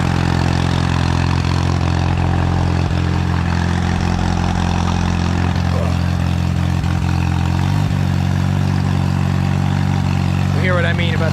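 A 1944 Allis Chalmers B tractor engine runs steadily with a low rumbling drone on a test drive, loud and constant throughout with faint rattles, while someone talks over it.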